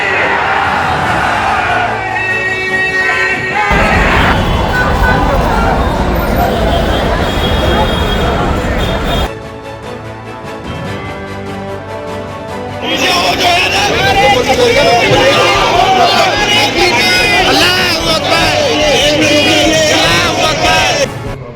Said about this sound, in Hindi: हम सब मिलकर नारा लगाएंगे